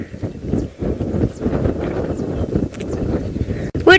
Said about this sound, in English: Wouldn't you know it, it's windy in the Mara today.